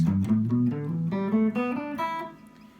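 A guitar plays a short run of single notes climbing up a pentatonic scale in E, each note ringing clearly before the last one fades out.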